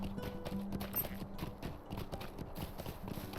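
Horse hooves clip-clop in a quick, steady trot in the online fantasy game Lord of the Rings Online, close and moderately loud, with no talking.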